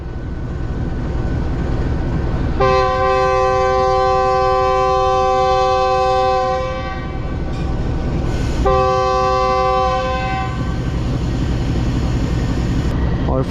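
Subak Raftar railcar pulling away from Chak Pirana station, a heavy engine rumble under two long sustained horn blasts, loud and close, the second blast shorter than the first.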